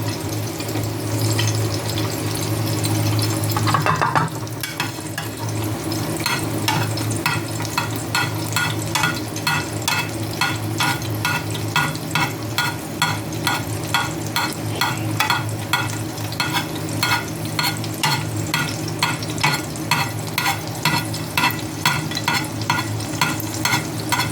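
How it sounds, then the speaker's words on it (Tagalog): Eggs frying in a pan give a continuous close sizzle with a rhythmic, regularly repeating crackle or scrape running through most of it, after a brief louder clatter near the start. "Pritong itlog"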